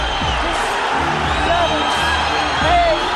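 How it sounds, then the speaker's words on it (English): A boxing arena crowd roars and shouts steadily after a knockdown, a loud, continuous wash of cheering and whooping voices urging the fighter up. "The crowd urging him to get up again."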